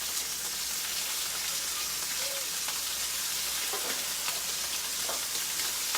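Surf and turf fries in oil in a pan on an unlevel stove, with the oil pooled toward the front. The sizzle is a steady, dense hiss with scattered pops, close and even throughout.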